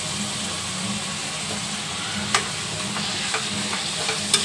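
Tomatoes with a pinch of salt are stirred in a hot pan for a chicken gravy with red masala, a steady sizzle running underneath while a spoon scrapes the pan now and then in a few sharp clicks.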